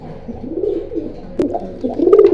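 Pigeons coo repeatedly at a bird seller's stall in Keraniganj, Dhaka, a low throaty cooing that carries through the clip and swells louder near the end, with a sharp click partway through.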